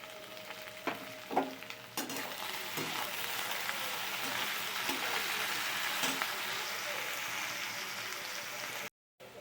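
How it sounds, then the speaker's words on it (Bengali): Potato pieces fry in oil with salt in a continuous crackling sizzle, joined by occasional stirring clinks near the start; the hiss stays even and close until a brief cut at the end. "আলুটা ভাজা বসিয়ে দিচ্ছি এই তেলেতে"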